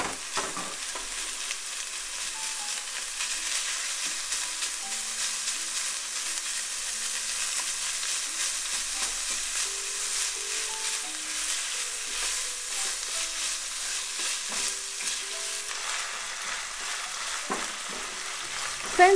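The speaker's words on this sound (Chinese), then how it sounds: "翻炒到全部绞肉都变色即可。" Two hundred grams of ground beef and pork mince stir-fry in a pan for a Bolognese sauce, giving a continuous bright sizzle with faint tonal sounds in the background.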